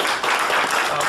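A crowd applauding at an 80th birthday celebration in Lachamp-Raphaël, dense continuous clapping filling the room, loud and close, with voices mixed in.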